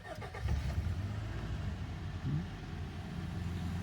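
A Honda Civic engine cranks and catches, then settles into a steady, close idle that runs without a break, with no talk over it.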